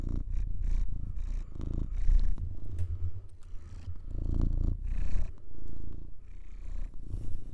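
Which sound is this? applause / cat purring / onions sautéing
cat purring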